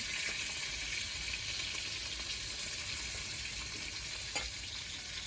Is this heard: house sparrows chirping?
no